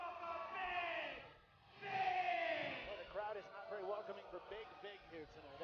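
A wrestling arena crowd roars and jeers at a bearded wrestler, swelling twice in loud waves of voices, then settling into scattered shouts with a commentator's voice running over it.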